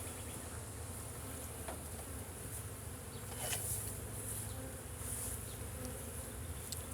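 A dense, steady insect drone of many honey bees buzzing close by at an open hive, a continuous hum with a few louder passes swelling and fading.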